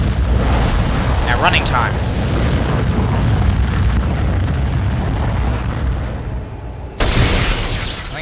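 A massive fire explosion in the Dead Space video game gives a loud, sustained roaring rumble lasting several seconds, followed by a sharp burst near the end, with a voice speaking over it.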